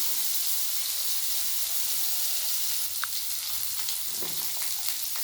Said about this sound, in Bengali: এবার কেটে রাখা আলুগুলো আমি দিয়ে দেবো, দিয়ে আমি বেশ কিছুক্ষণ কষিয়ে নেব।